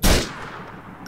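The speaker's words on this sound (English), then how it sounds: "I'm gonna have to like wait for them to shoot so I can see where the bullets are coming from" Enemy gunfire in GTA IV opens with a loud, sharp shot, then a reverberating tail and a faint click near the end.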